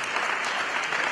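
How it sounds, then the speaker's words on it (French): A crowd claps steadily in a dense, even burst of applause, fairly loud and close. "On applaudit Jésus!"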